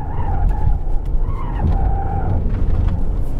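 Tires of a 2018 Volkswagen Touareg SUV with a 3.0 TDI V6 squeal in a loud, continuous skid through a cone-marked corner, over a steady engine and road rumble that persists throughout.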